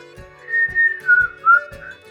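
A person's whistle carries a wavering, breathy melody of several sustained notes over about two seconds. Soft thumps recur at a steady pulse underneath, and there is no talk.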